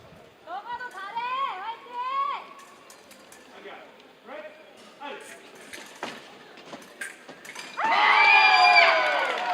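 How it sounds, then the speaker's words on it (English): Spectators at the 2025 para fencing world championships in Iksan, a team epee and foil event, let out scattered shouts and calls before a louder burst of cheering swells near the end. "All the crowd is cheering"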